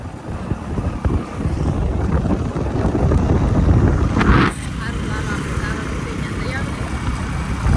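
Steady, heavy wind buffeting a microphone outdoors, a low roaring rumble throughout, with a brief rushing gust partway through.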